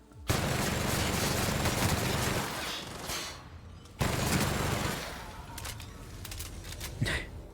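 A gun fires in The Outer Worlds in two dense, loud bursts of rapid shots. A short lull separates the bursts, and a few scattered shots trail off at the end.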